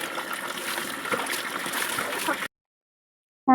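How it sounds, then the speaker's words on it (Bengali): Water splashes and trickles in quick, busy bursts as someone bathes, a close, fairly loud patter that cuts off abruptly, followed by silence and a brief new sound at the end. "আমি উটোপাটা করে স্নান করে নিচ্ছি"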